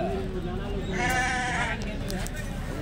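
A goat lets out one drawn-out, wavering bleat in the middle, with a constant murmur of background noise and voices at a goat market in Kadiri.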